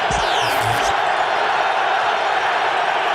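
A roaring football stadium crowd at the Vikings at Giants 2000 NFC Championship game in New York cheers in a dense, sustained wall of noise, with a few thuds and whistles at the start.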